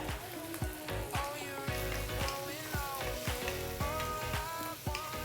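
Shallot added to a pan of half-cooked shrimp with garlic and chili for basil fried rice, a loud steady sizzle with repeated stirring scrapes and clacks in a rough rhythm, close by, with background music.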